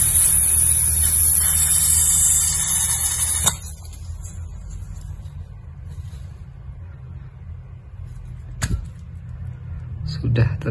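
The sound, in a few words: refilling butane gas into portable soldering torch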